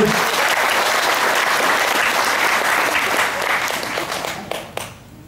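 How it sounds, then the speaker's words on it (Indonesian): Loud, dense audience applause at a guru puja and guru yoga teaching session, steady for several seconds before tapering off into a few scattered claps and silence. "Tepuk tangan."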